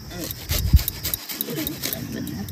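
An onion is rubbed against a hand grater in a home kitchen, giving short rasping scrapes mixed with clattering, while a person talks.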